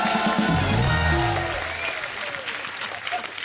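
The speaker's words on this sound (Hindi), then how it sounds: "चंदू के लिए जोरदार तालियां" Loud studio audience applause for Chandu on a TV comedy show, a short burst of dense clapping that opens with background music and gradually thins out.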